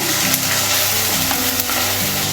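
Steady, loud sizzling of onion and tomato sautéing in a hot pan, continuous with no one speaking.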